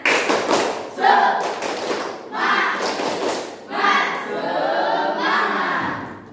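Schoolchildren in a classroom repeat the tepuk semangat clapping chant, with rhythmic group claps and thumps in patterned bursts and loud voices chanting along together.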